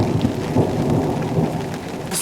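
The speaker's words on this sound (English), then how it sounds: "So our rain has turned into baby hail." Heavy rain turning into small hail pours down steadily during an off-road outing, with rolling thunder rumbling underneath throughout.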